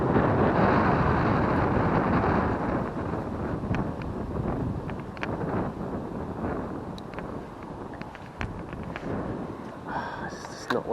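Wind buffets the microphone on a riverbank during lure fishing for perch and pike. It is a loud, continuous, rumbling roar with gusty surges throughout.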